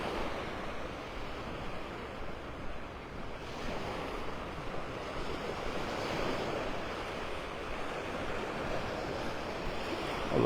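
Ocean surf washes steadily onto a beach in North Naples, Florida, on an early morning, a continuous broadband rush of breaking waves with some wind buffeting the microphone throughout.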